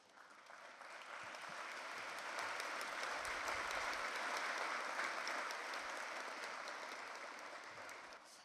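Applause in the UN General Assembly hall, distant and soft, swelling gradually to a peak midway and then tapering off as the clapping thins.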